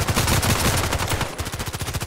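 Rapid automatic gunfire from the online shooter Contract Wars, a dense sustained burst that breaks briefly and then continues as distinct rhythmic shots, loud and close, with no voices over it.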